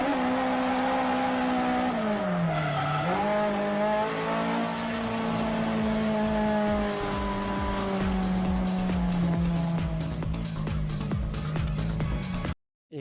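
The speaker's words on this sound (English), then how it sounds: "Levin two-door uses a 16-valve 4A GE engine, producing only 160 horsepower" Toyota Levin two-door drift car with a 16-valve 4A-GE engine making 160 horsepower, on track at Nakayama: a sharp, high-revving engine note rising and falling through gear changes, steady and prominent, ending abruptly.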